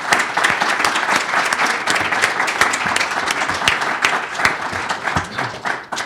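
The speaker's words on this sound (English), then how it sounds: "But I think first a round of applause for our panelists." Applause for panelists at a National Press Club briefing: sustained, loud clapping from a sizable audience, crisp individual claps over a continuous roar, tapering slightly near the end.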